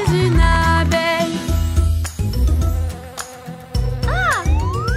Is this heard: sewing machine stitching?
no